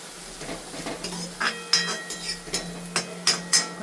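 Chinese Manchurian is stir-fried hard in a pan over high gas, with a spoon scraping and clinking against the metal in a steady run of sharp strokes over a faint sizzle.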